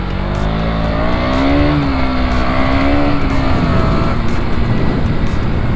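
A KTM Duke 200 NG motorcycle accelerates hard, its engine note climbing steadily through the revs with a loud, close, continuous roar and no talking.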